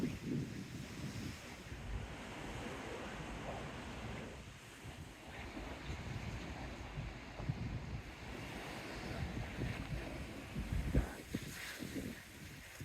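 Strong wind buffets the microphone along a seafront beside a pier and amusement arcade, with a steady roar of surf and gusts rising and falling throughout, loud and close, no voices.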